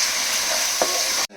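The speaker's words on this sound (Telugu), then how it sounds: "కరేపాకు కూడా వేసుకుంటున్నాను" Curry leaves sizzling in hot oil in a pan while a fish curry is made, a steady, close frying hiss with a brief stirring scrape near the middle, cut off abruptly at the end.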